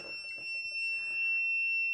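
Low-water alarm of a cheap tabletop hydroponic system sounding as a continuous piercing high-pitched electronic tone, steady and unbroken, with faint rustling underneath.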